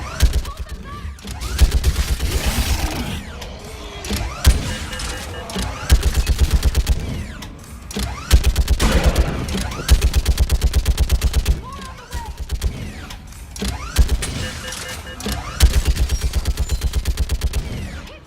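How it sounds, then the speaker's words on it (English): Repeated bursts of rapid automatic gunfire in the video game Mass Effect 3 on Thessia, loud and close, coming in several long volleys separated by brief pauses, with some voices between. "Keep firing!"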